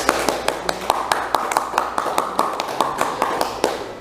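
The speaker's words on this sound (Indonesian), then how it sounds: "Tepuk tangan." Applause at a talk about a local South Kalimantan clothing brand, with a steady run of sharp claps at a fairly even, quick rhythm for about four seconds, moderately loud.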